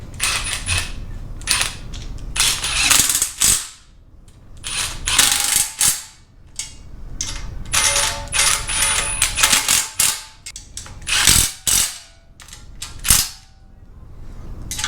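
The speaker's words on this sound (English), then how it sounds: "So those bad boys, we are just going to socket tighten or wrench tighten." A socket wrench ratchets in quick bursts of clicking while tightening the oil pan bolts on an LS engine, with short pauses between bursts and occasional metallic clanks nearby.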